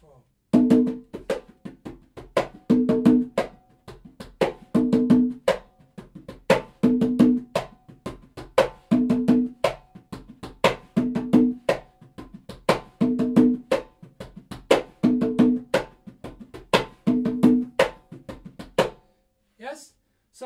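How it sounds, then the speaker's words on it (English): Conga drums play a repeating afrobeat-style pattern with a lilting ternary reggae feel, close and dry, with evenly spaced groups of hits continuing for about twenty seconds before stopping. "I recorded a conga rhythm, yes, to accentuate that ternary reggae, yes, feel"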